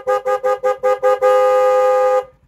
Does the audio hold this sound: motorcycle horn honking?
yes